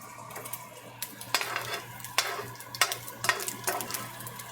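Pancetta crisping in a pan over raised heat for a classic risotto, a steady frying hiss with a low hum beneath and repeated sharp clinks and scrapes of a utensil stirring against the pan.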